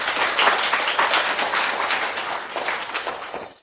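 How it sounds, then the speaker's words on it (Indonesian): Dense, sustained applause from an audience welcoming an artist, loud and steady before tapering off toward the end. "Mari kita sambut dengan tepuk tangan meriah."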